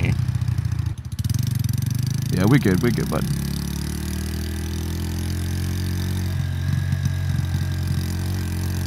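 A 125cc motorcycle engine idles with a steady, close, low rumble throughout, with a voice speaking briefly over it and a faint clatter at times.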